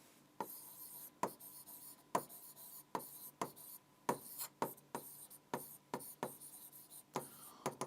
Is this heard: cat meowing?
no